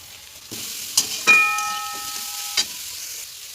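Chopped onion and grated cauliflower go into hot oil with green chilli, coriander and grated ginger, setting off a steady close sizzle with a few sharp clicks and clatters of the pan and spoon.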